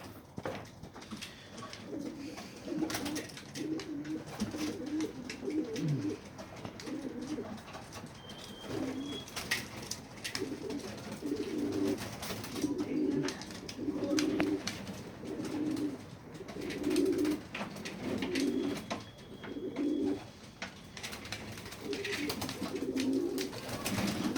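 Red bango pigeons coo in steady repeated rolling phrases, close and fairly soft, with brief rustles and faint background noise between calls.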